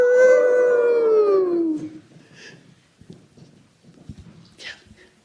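Dogs howl in one long, loud, slowly falling howl lasting almost two seconds, followed by quieter scattered movement and rustling.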